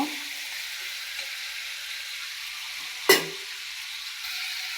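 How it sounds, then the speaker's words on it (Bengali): Crabs fry in a pan with a soft, steady sizzle, quiet and close, broken by one sharp clank of a utensil striking the pan partway through. "কাঁকড়াগুলো ভাজা হয়ে গেছে আমি এখন তুলে ফেলবো"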